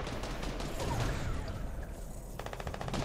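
Rapid gunfire in Fortnite, a continuous burst of shots under busy game ambience with a sharper rattling volley near the end, no talk.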